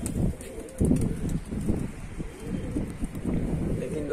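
Highflyer pigeons coo close by while wind buffets the microphone, with low, soft calls repeating in clusters and a brief burst of flapping wings as the birds take off.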